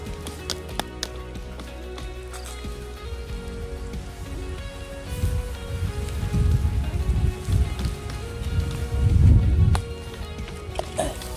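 Water pours from a hose onto a surface during a messy hose-cleaning job outdoors on a windy day, a broad steady wash that swells louder toward the end, with a low rumble of wind and handling noise underneath.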